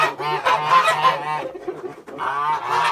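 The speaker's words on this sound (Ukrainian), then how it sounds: "Один гусак це точно, а другий от із знаком питання, чи це гуска, чи те гусак" Geese honk loudly and repeatedly at close range, with a brief pause before another burst of harsh honking.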